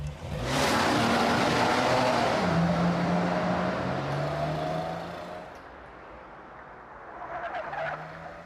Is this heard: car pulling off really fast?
yes